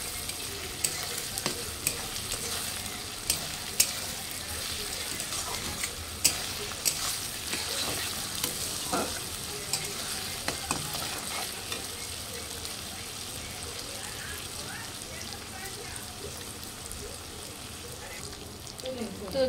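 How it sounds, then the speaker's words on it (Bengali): Garlic, onion and tomato fry in a pan while a utensil stirs them, soft sizzling broken by repeated scraping clicks and taps, fairly quiet and alone. "এবারটা রসুনটা দিয়ে দিলাম।"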